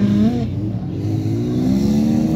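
Cars at a drifting motorsport event in Kilflynn, County Kerry, among them BMWs and Nissan Skylines: a loud, sustained engine drone that rises and holds in pitch, heard alone with no talking.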